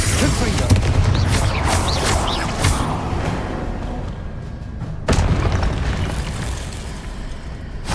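Confringo explosive spell in Hogwarts Legacy going off as a loud, deep blast that rumbles on, followed by a second sharp burst about two thirds through, with a voice briefly heard.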